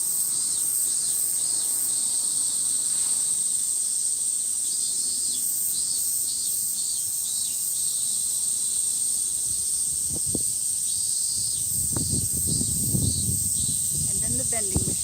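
A loud, steady high buzz of cicadas fills a Tokyo park, pulsing slightly in places, while a person speaks over it toward the end along with some nearby rustling.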